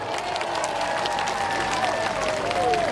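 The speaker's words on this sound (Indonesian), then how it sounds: "tepuk tangan untuk kita semua" A large outdoor crowd of Aceh residents at a walking rally applauding, a broad sustained wash of clapping and crowd noise, with a faint voice or tone running underneath.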